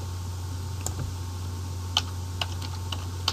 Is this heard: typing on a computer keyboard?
yes